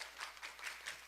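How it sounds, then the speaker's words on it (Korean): Applause from an audience at a POSTECH university admissions briefing, a steady wash of clapping with a few swells, moderately loud and with no voices over it. "큰 박수 부탁드립니다."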